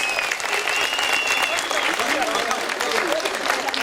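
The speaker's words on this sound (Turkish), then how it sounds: "kuvvetli bir alkış rica ediyoruz" A crowd at a handover ceremony applauds in a steady, full roar of clapping, with voices and a faint whistle-like tone running beneath.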